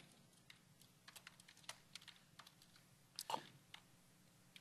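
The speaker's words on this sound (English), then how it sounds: "It's hard to type on the keyboard" Typing on a computer keyboard during a PDC 2008 keynote, with faint, irregular clicking keystrokes and a brief louder clatter near the end.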